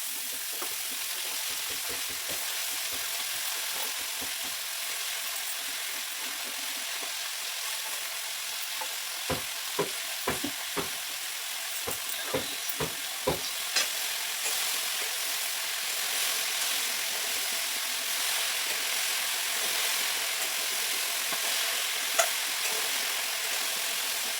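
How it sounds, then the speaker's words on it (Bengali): Malabar spinach and spinach sizzle steadily in hot oil, a constant frying hiss over about twenty seconds, broken midway by a run of sharp stirring clicks and taps. "এবার পুঁই শাক আর পালং শাক দুটো মেশানো আছে, ওটা তেলের উপরে দিয়ে দিচ্ছি"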